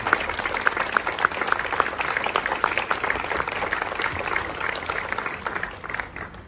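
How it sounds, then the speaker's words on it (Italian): Sustained applause from an audience at the inauguration of a diocesan family counselling centre, dense steady clapping filling the whole stretch and easing slightly toward the end, with no voices over it. "a loro il nostro grazie e il nostro applauso per l'opera prestata"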